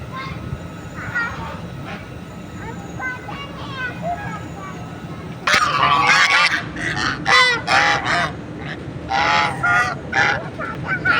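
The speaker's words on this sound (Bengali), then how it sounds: "দেখো তুমি হাঁসগুলো তোমার দিকে আসছে" Ducks swimming on water give loud, close honking quacks in bursts, growing busier and louder partway through, while a person talks softly nearby.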